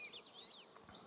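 Honey bees swarm and drone at a hive entrance after a hive swap, a dense close buzz with individual insects whining past near and far, no voices, steady throughout the short moment.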